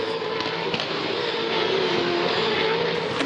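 V8 Supercars racing at the Hamilton 400 street circuit, a loud continuous engine roar with a droning tone and faint tire noise, steady throughout.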